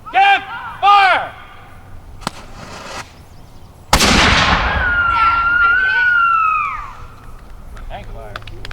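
A black-powder cannon fired by the Huntington Militia at an outdoor demonstration, a single loud boom that rolls out into a long fading echo, with people talking and shouting commands before and after the shot.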